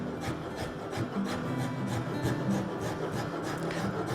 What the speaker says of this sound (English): I'm watching the rasp work toward the line